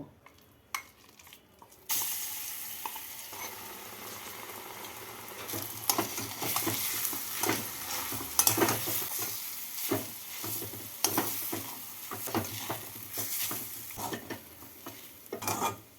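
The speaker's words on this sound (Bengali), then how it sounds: "তেলটাকে ভালো করে গরম করে নিয়ে এর মধ্যে বেটে রাখা ডালটাকে ভেজে তুলে নেব" Ground lentil paste fries in hot white oil in a kadai, a quiet start giving way to a sustained crackling sizzle with rustling stirs and occasional utensil clinks.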